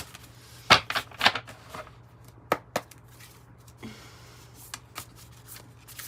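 Sacred Rebels Oracle cards being shuffled by hand, a few sharp riffling bursts followed by softer scattered card rustles, close and fairly quiet with no talking.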